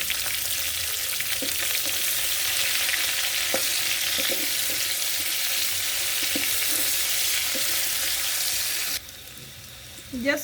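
Onions fry in a pot for Kenyan beef pilau, giving a loud, dense, continuous sizzle close by with occasional soft stirring knocks, before the hiss drops away abruptly near the end.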